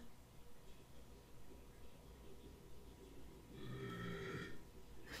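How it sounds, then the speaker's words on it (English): A man burps in the background while a Magic: The Gathering draft is played, one low, drawn-out burp near the end after quiet room tone. "That's my husband burping."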